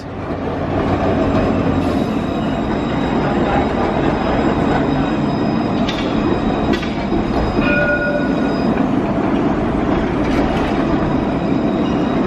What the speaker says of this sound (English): Nice long trams as well, plenty of space in there.